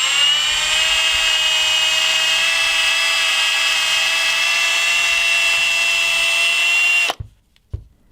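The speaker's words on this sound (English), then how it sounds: "or, you know, a power drill," A power drill whines against an iPhone screen in a durability test, a loud, steady high-pitched tone holding for about seven seconds before cutting off abruptly, followed by a couple of faint knocks.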